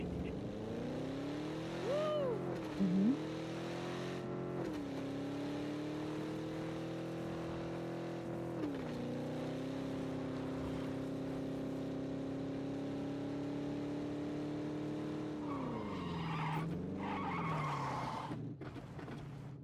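A car in PUBG Battlegrounds drives steadily with a droning engine that shifts pitch, ending in a brief skidding screech, heard alone and up close.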